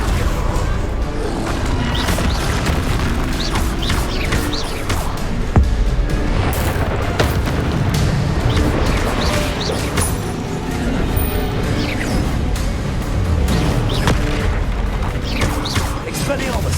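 Bombarda blasting spells explode during combat in Hogwarts Legacy, a dense, loud run of booms and crashes layered with clattering impacts and shouted voices throughout.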